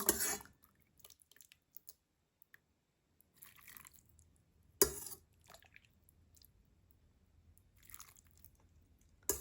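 Soup broth for tom yum noodles with crispy fried wontons is ladled into a bowl in a kitchen, giving soft liquid splashes and drips in a few separate bursts, quiet and close, with no talk.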